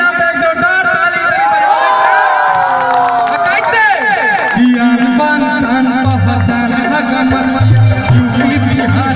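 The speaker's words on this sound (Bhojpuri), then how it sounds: "इसलिए बिहार के नाम पे एक जोरदार ताली" A large audience at a live Bhojpuri stage show roars and cheers loudly, with whoops and shouts rising over a dense crowd noise, alongside a singer's voice and music.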